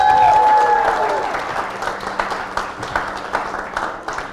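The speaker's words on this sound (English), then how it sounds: "Could we give her a big round of applause, please?" An audience at a 13 Nights of Halloween event applauds Carly Wright, with loud, close clapping and crowd noise. A voice and tones briefly open it, then the applause thins and fades toward the end.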